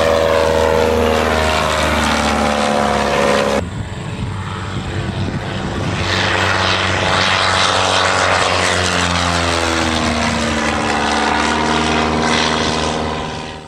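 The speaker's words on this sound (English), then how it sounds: "the airplane comes down and it flies a very very slow approach speed" A Carbon Cub light propeller airplane drones loudly and steadily close by, its engine note shifting partway through as the aircraft moves, with no talk over it.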